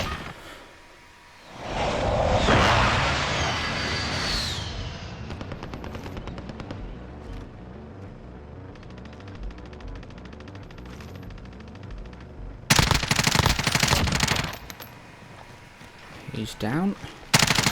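Automatic gunfire from a Call of Duty: Warzone match, with several loud bursts of rapid shots spread through the clip, including a dense burst near the end, mixed with game effects and someone talking over it.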